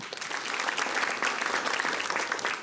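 A young audience at a physics science event claps for itself, a steady wash of many hands at moderate level throughout.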